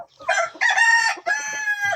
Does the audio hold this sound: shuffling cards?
no